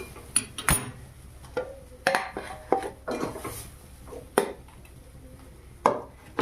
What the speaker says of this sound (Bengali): এবারে কড়াই থেকে উঠিয়ে নেব পুর